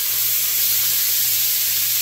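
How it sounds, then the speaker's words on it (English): Food for red beans and rice sizzles as it fries in a pan, a steady, fairly loud hiss with a low hum under it and no pauses, heard alone without speech. "I'm going to just fry this here for a couple of minutes"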